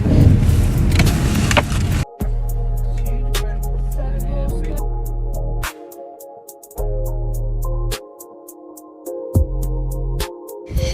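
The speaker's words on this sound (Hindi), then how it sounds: "उसके बाद हम लोग वहाँ से निकले और गाड़ी में बैठे।" Car being entered and driven off after a night out: an opening burst of activity, then a door thud and an engine idling in intermittent low hums broken by gaps, with small clicks and clunks on top.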